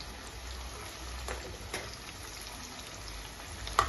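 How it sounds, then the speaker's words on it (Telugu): Bitter gourd pieces frying in hot oil give off a soft, steady sizzle with a few faint pops, heard alone without any talking. "బాగా దోరగా ఎర్రగా వచ్చే వరకు ఫ్రై చేసుకోవాలండి ముక్కల్ని"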